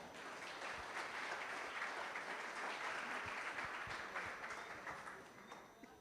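Steady applause from an audience at an awards ceremony, greeting the first vice-president as she comes to hand out prizes, a dense even roar of clapping that holds for several seconds before easing slightly.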